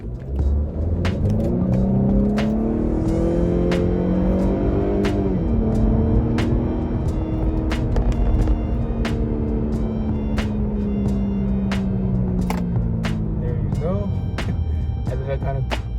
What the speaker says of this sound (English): let's try to do a launch. Sport mode, paddle shift, and let's go.